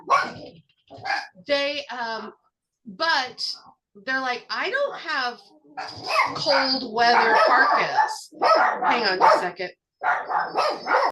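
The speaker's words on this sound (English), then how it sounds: "So sorry about the dog barking." Dogs bark and yip repeatedly indoors, loud and close, mixing with and breaking through a person talking throughout.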